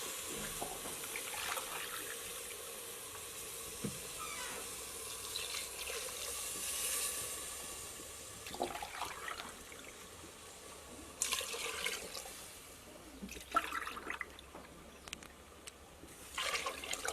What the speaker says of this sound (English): it is now at this point that we are going to add water